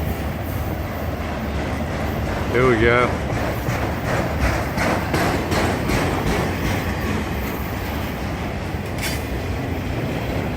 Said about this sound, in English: Trying to go back to my neighborhood, and there's a train right here.